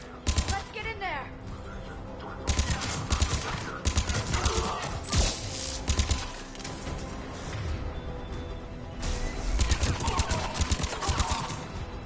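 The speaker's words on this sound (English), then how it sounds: "Cerberus troops at checkpoint. Attempting to kill Krogan. Need assistance. I see the checkpoint. They're under fire." Gunfire at a checkpoint in the video game Mass Effect 3: continuous bursts of rapid automatic fire and sharp shots, loud and close, with steady battle noise throughout and no pauses.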